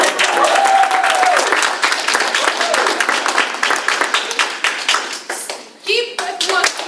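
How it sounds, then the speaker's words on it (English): Audience applause at a club speaking and evaluation contest, close individual hand claps forming a brisk round that thins toward the end, with a voice briefly talking over it. "I think it needs one more round of applause."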